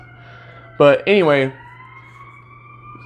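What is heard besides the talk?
emergency vehicle siren in downtown St. Paul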